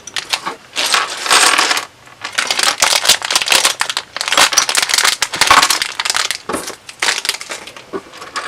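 Small Make-iT Blocks plastic parts tipped out of a bag, a loud close clattering cascade of pieces in bursts with crinkling plastic between them.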